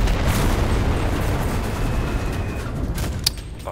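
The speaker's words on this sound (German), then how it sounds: "wir schmeißen die Artie einfach mal" Artillery barrage from a World War II shooter game, Enlisted, on a Moscow battlefield: continuous heavy rumbling booms and blasts rolling together loudly, with a sharper crack near the end.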